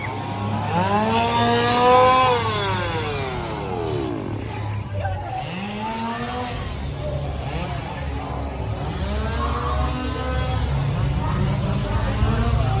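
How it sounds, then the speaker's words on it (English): Chainsaw engines rev up and down in long, rising and falling whines at a Halloween Horror Nights haunted attraction, continuous and fairly loud over a rumbling background. "Oh, more chainsaws."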